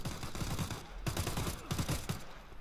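Rapid bursts of gunfire in the shooter game Arena Breakout Infinite, several close, loud volleys with short pauses between them, heard alone without talk.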